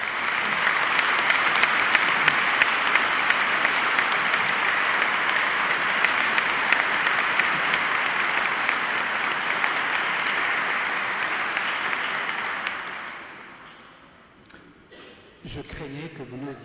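A congregation applauds at a Catholic ordination ceremony, sustained dense clapping filling a large space for about thirteen seconds before fading out, followed by brief quiet and a few faint sounds.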